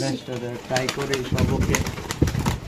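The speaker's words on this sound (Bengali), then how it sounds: "এখানে আছে একটা সিঙ্গেল শার্টিং কবুতর" Shirting pigeons kept for sale at a bird market, cooing softly in the background while people talk loudly over them throughout.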